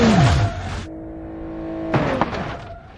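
A Porsche in a racing video game drives through a series of gates, its engine tone rising as it accelerates, then steady, with a brief swell and crackles near the end.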